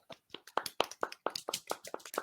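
Hands clap in a fast, uneven string of about a dozen sharp, close slaps, separated by brief quiet gaps.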